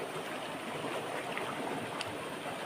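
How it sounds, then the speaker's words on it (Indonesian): A river flows in a steady, even wash of moving water with no breaks, heard outdoors at moderate distance and with no voices. "Kita langsung aja lihat sungainya ini seperti apa."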